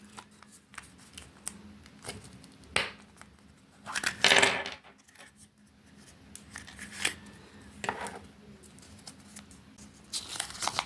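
A Kinder Surprise Applaydu egg capsule being opened up close: scattered light plastic clicks and taps, then a louder crinkling snap around the middle, followed by more soft handling noises.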